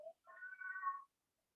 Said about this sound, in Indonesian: Ada suara meong-meong di rumah Ella.